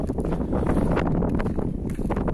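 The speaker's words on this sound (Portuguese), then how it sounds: "Tem muito vento aqui." Strong wind gusting in the Andes mountains, a loud, steady broadband roar that buffets the microphone throughout, with no voices.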